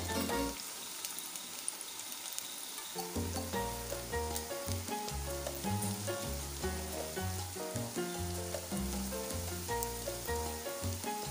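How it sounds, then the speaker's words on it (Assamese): Battered pumpkin flower fritters (pakora) sizzle steadily in hot oil, a continuous frying crackle running under louder background music throughout. "এয়া মোৰ পকৰিকেইটা তলফালে সিজি আহিছে"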